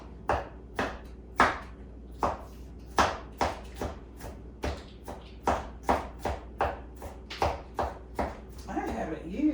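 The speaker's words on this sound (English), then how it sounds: "This thing makes quick work of chopping up onions." Onions being chopped with a handheld food chopper for baked ziti, a run of sharp, regular chopping thuds that are loud and close, about twenty strikes in quick succession.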